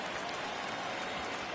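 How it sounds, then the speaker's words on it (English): Stadium crowd in the Bronx cheering in the baseball video game MLB The Show during a playoff game, a dense continuous roar of applause and noise, fairly faint and even with no distinct voices. "Crowd here in the Bronx up to their feet."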